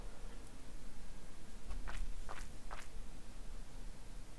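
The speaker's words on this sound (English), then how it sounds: "I heard footsteps." Footsteps echo in a sewer in the Stardew Valley video game, three or four distinct scuffing steps in a row over a low ambient hum, moderately loud and close.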